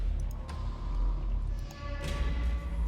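A stress damage sound effect from the video game Darkest Dungeon plays as a low, rumbling, unsettling swell with a few sharp accents and a brighter surge near the end.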